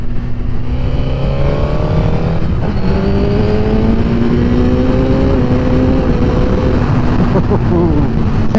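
Suzuki GSX-R1000R superbike of about 200 horsepower, its engine loud and steady with rising revs through the gears, the pitch climbing in stages before dropping back, a rider's voice faintly present beneath it.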